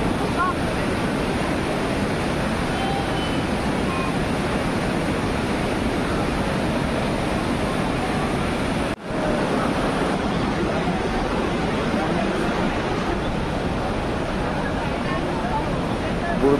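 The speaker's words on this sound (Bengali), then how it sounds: "দেখুন অনবরত গরম জল বেরিয়ে যাচ্ছে সেই হট ওয়াটার স্প্রিং থেকে" Hot spring water gushes continuously beside the Parvati River at Manikaran, a steady, dense rushing roar that fills the scene with no pauses.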